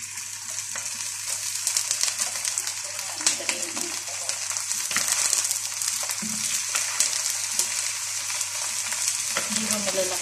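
Liver frying in a pan with already cooked onion and garlic for adobong atay, a steady loud sizzle with occasional scraping stirs, no voices.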